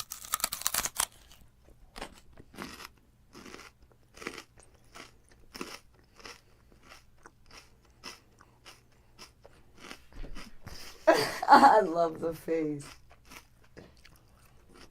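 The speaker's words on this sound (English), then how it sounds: "you don't like the crunchy and the watery texture with the chewy raisins and the peanut butter?" A crunchy snack made with peanut butter and raisins is being chewed, with a steady run of crisp crunches and bites up close, followed by a brief spoken remark.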